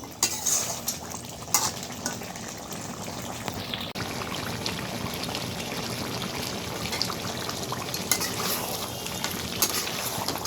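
Bottle gourd and duck curry being stirred in a pot, with steady cooking noise, occasional scraping and clinks of a spoon against the metal, and no talking.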